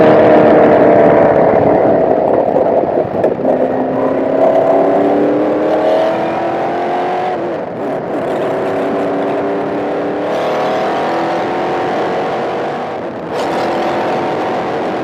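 A 1968 Lola T160 race car accelerating up the main straight of a circuit, its engine note climbing loud and close in rising pitch, easing briefly near the middle and again toward the end before pulling on.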